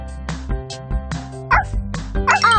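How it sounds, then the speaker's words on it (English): A cartoon puppy from Dora lets out quick high yips over bouncy background music, a few short bursts close together. "Now we have five puppies!"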